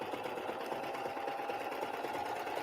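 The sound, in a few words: Baby Lock Accolade serger sewing fabric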